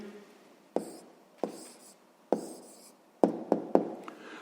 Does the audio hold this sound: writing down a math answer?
yes